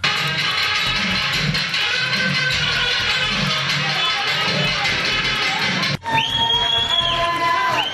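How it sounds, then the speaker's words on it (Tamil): A crowd of folk artists claps and cheers continuously, with excited shouts rising over the applause; a brief break near the end gives way to more noise. "கூடியிருந்த நாட்டுப்புற கலைஞர்கள் கரகோஷம் எழுப்பி ஊக்கப்படுத்தினர்"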